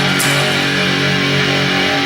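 A heavily distorted electric guitar grinds out a riff, a thick, loud, unbroken wall of crunchy tone held with power chords on the low strings.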